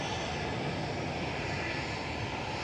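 An airliner taking off from Manchester Airport on a clear, slightly hazy day, a steady broadband engine roar holding loud and constant throughout with no talk over it.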